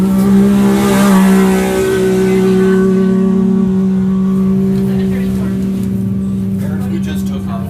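An off-road race X3 accelerates away hard at a Big Sky 200 qualifying start near Broadview, Montana, its engine holding a loud, steady high whine that slowly fades with distance while a voice talks over it.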